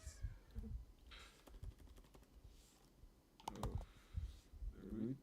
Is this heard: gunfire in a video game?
no